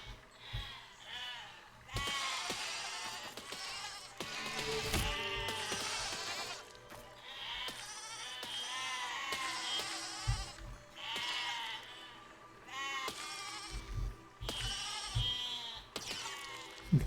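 Sheep in the Besiege video game bleat repeatedly, several overlapping wavering calls coming in bursts at moderate loudness with brief gaps between them.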